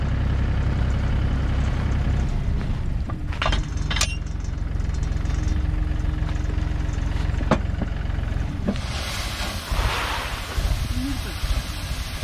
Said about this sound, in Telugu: ఇంకో ట్రాక్టర్ వస్తుంది డాడీ